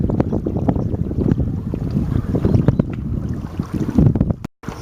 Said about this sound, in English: I can hear the water slapping on the bottom of